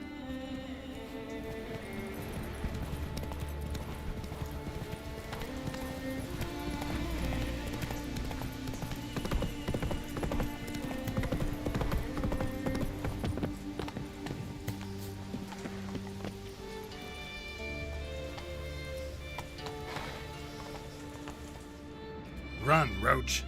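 Roach the horse gallops in The Witcher 3, with rapid, rhythmic hoof clip-clops over game music and occasional voices, keeping a fairly even pace throughout.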